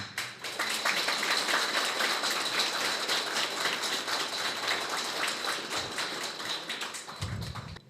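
Warm applause fills a Christmas Eve gathering in Lubartów, a steady patter of many hands clapping together at close range, sustained for several seconds before fading out.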